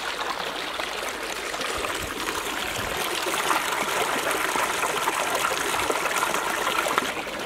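Clear stream water flowing at a scenic stop on a Suzuki V-Strom 650 ride, a constant close rushing and trickling babble filling the whole stretch, loud and steady with no voices.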